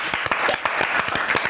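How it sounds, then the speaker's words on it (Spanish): Audience at a live comedy show claps in a brief, lively burst of close, overlapping hand claps, with a few individual claps standing out through the wash. "Un aplauso para la masturbación femenina."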